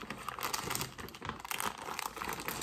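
A plastic bag crinkles and rustles close up in continuous crackling bursts, loud and steady throughout with no speech over it.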